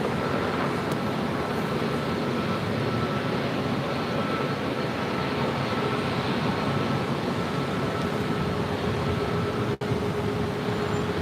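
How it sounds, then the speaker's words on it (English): A Delta Airlines Airbus A321neo at LAX gives off a steady, broad jet roar that holds at an even level throughout, with no talking. "That is Delta Airlines flight 567 heading to La Jolla in an A321neo"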